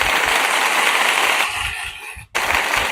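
Loud crowd applause with cheering, a steady wash of clapping that dips briefly near the end before resuming.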